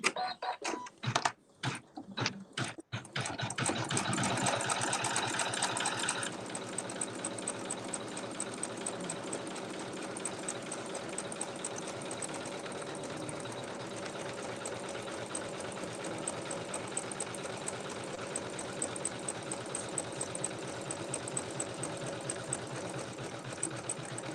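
Sewing machine stitching nesting baskets, opening with a few short start-stop bursts and then running continuously with a loud, steady mechanical whir close by.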